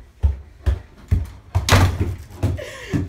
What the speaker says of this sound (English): why are you slamming my door, man?